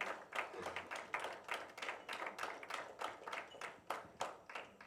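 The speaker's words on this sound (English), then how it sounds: "A big round of applause for every one of them." An audience claps at a school dance teacher's event, a loose crowd of hands producing uneven, rhythmic bursts of clapping that rise and fall steadily over several seconds, fairly distant.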